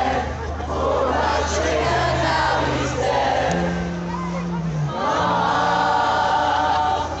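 A crowd sings together from close range, a dense mass of overlapping voices with a few individual singers standing out, loud and continuous throughout.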